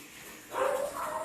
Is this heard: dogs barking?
yes